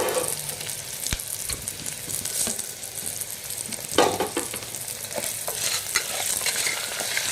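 Dried red chillies sizzle in hot oil with dal in a pan, a loud, continuous frying hiss broken by stirring scrapes and occasional clinks, with no voices.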